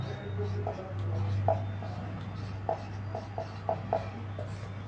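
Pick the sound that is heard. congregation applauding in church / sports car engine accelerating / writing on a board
writing on a board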